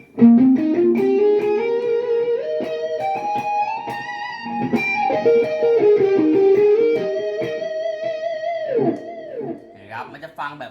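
Distorted electric guitar through a MOOER GE-100 multi-effects unit plays a slow, sustained melodic line, notes gliding and ringing on, then fading near the end.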